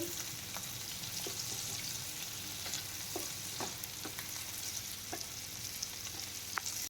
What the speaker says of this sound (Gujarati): આવી રીતે એકાદ મિનિટ માટે બટેટાને તેલમાં સાતડવાના છે